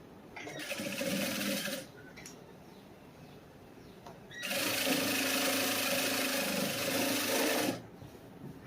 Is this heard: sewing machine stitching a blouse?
yes